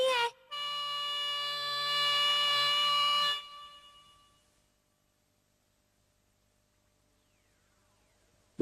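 A homemade bamboo flute is blown in a cartoon, giving a bright, steady whistling tone for about three seconds that then fades away into quiet.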